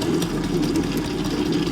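A stand mixer kneads flatbread dough for Tuscan-style flatbreads, giving a steady, continuous low motor hum with no breaks, loud and close, with no talking over it.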